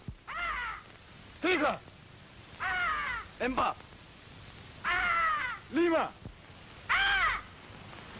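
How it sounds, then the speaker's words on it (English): Call of a white peacock in the Borneo jungle: a series of loud, harsh, arching cries repeated about seven times in uneven bursts, with people shouting counts between and around them. "That was the call of the white peacock."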